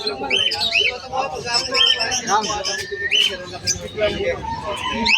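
Birds including an Indian ringneck parakeet, a busy mix of sharp chirps, squawks and whistled calls close by, with people talking throughout.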